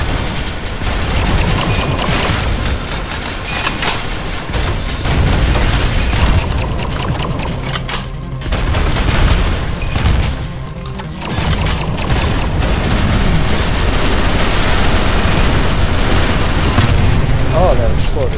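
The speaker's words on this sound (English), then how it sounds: "Why are there explosions?" Loud, nearly continuous barrage of explosions and rapid gunfire from the co-op top-down shooter video game Synthetik, dense booms layered over each other with only brief dips in intensity.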